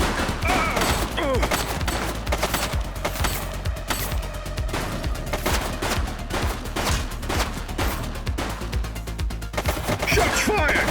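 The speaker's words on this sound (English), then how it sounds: "Shots fired!" Rapid, dense gunfire rattles continuously for several seconds, overlapping loud shots with no pause, close and harsh throughout.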